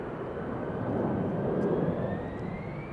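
An aircraft departing Amsterdam Schiphol during parallel departures makes a steady, fairly loud jet roar with a rising whine, swelling slightly midway through the few seconds, with no talking.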